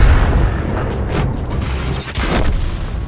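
Tank cannon fire and explosions in the World of Tanks video game, a dense run of loud booming blasts and rumbling impacts over about three seconds.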